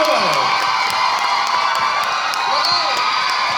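Loud cheering and whoops rise from an audience at a Thai stage event for a film's cast, a near, boisterous crowd with high shouts over a steady wash of voices and some clapping.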